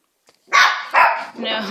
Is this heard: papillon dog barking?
yes